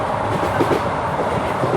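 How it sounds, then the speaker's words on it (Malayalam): Steady rumble and clatter of a passenger train rolling along the rails, heard from inside a carriage on a trip toward Kottiyoor temple, loud and continuous throughout with no talk. "അങ്ങനെ ഞങ്ങൾ ട്രെയിനിൽ കയറിയിട്ടോ"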